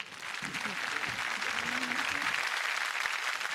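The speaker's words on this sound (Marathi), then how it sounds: "एकदा जोरदार टाळ्या या सगळ्या गोड कुटुंबासाठी." Audience applause on a Marathi TV singing competition, a broad steady wash of clapping from a crowd, with voices heard over it.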